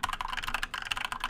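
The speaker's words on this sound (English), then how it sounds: "Let's test it with a keyboard." Rapid clicking of keys on a computer keyboard, recorded through a budget USB microphone, steady and close, with no voices.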